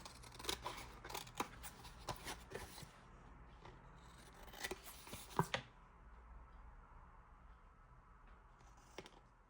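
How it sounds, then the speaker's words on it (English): Scissors trimming excess paper off a glued journaling card in a craft project, a run of quick crisp snips and rustles up close, then a quieter stretch with one last faint snip. "And cut off the excess as well."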